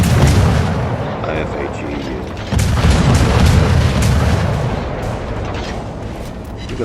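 Heavy naval gunfire in a World of Warships-style battle as a USS Kidd destroyer fires on the battleship Jean-Bart at range, a loud continuous rumble of booming shots and explosions with a sharp surge midway.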